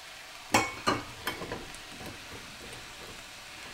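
Chunks of potato and carrot dropped into a stew pot, a few quick soft plops and clatters in succession, tapering into lighter taps.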